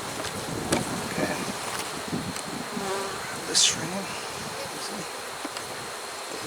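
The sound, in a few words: honeybees buzzing around hive frame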